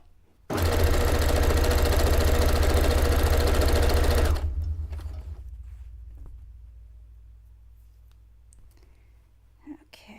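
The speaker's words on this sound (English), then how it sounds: "I'm folding along those guidelines so I have a clean, crisp edge, and I'm stitching them down to the back" A sewing machine runs in one loud, steady burst for about four seconds, stitching down folded fabric edges on an avant-garde cone-shaped cape-dress, then cuts off into a quiet, slowly fading room tone.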